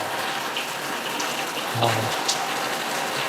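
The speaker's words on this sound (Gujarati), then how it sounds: "જો ભાઈ નેક્સ્ટ લેવલનો વરસાદ આવે છે." Heavy rain falls in a steady, dense hiss that stays at an even level throughout, with no voices heard.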